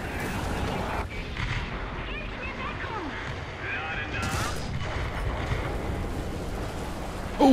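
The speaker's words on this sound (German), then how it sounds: "Artilleriefeuerung" Distant artillery fire rumbles through a War Thunder ground battle, a continuous noisy din of booms and crackle with a sharper burst near the end.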